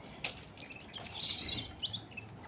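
Canaries in a bird seller's shop give high, thin chirps and short trilling bursts, faint and somewhat distant over a low room hiss, with no voices.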